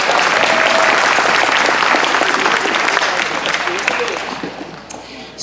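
Concert audience applauding a bluegrass upright bass player, a full, loud wash of many hands clapping that holds steady and slowly thins out toward the end.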